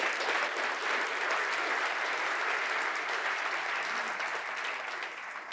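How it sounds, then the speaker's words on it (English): Dense, sustained applause from a large audience at an Angular developer conference, a continuous roar of clapping that slowly tapers off near the end. "let's just do one more round of applause for the Angular team for ng update"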